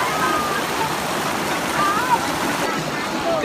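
Rushing water of Bolinao Spring Falls, a long waterfall, pours in a steady broadband wash that fills the whole clip, with voices faintly audible beneath it.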